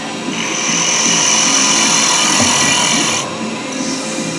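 A carbide chisel cuts a spinning wood piece on a lathe, making a steady, close whirring scrape with a high ringing tone that runs for a few seconds before easing off to a quieter hum.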